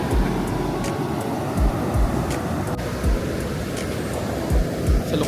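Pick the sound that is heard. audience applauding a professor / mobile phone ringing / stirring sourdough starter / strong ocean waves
strong ocean waves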